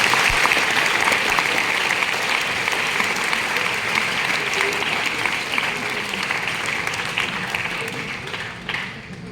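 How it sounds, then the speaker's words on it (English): An audience of delegates at a Model United Nations conference applauds its panelists, with loud, sustained, dense clapping filling the room and tapering slightly toward the end. "can I get everyone to just give our panelists a round of applause again?"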